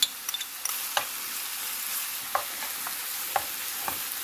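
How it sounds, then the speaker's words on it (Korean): Minced onion and garlic fry in a generous pour of cooking oil in a preheated pan, giving a steady hissing sizzle broken by a few light utensil taps, with no one talking. "예열된 팬에 식용유를 부어주고요. 식용유는 조금 많이 부어주세요. 이제 다진 양파를 넣어줄게요. 그리고 다진 마늘인데요."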